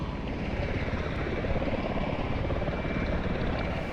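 MV-22 Osprey engines at cruise in Microsoft Flight Simulator, a dense, steady rotor-and-turbine drone with a faint tonal whine held constant throughout, loud and unbroken with no speech.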